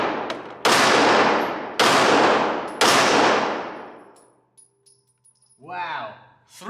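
Three loud, sharp pistol shots from a CZ 75 Tactical Sport 9mm ring out about a second apart at a shooting range, each trailing a long decaying echo, followed by a short excited voice.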